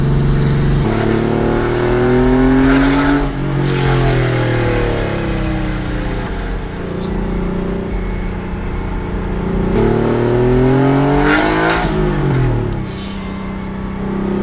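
Porsche 964 flat-six engine running, loud and close, rising through repeated revs and falling back between them, with a brief smoother stretch mid-way before revving hard again.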